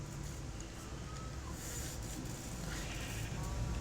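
Sheep bleat in the video game Minecraft, faint and thin over a steady background hum. A few short wavering calls come and go, with no clear speech.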